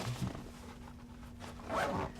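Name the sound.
zipping up waterproof camera rain cover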